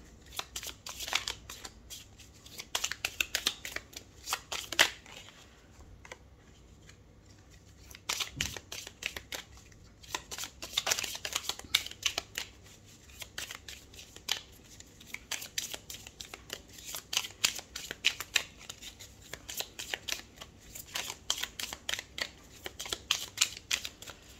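Tarot cards shuffled by hand in quick riffling bursts, crisp close flutters repeating with short pauses across a quiet room, and no one speaks.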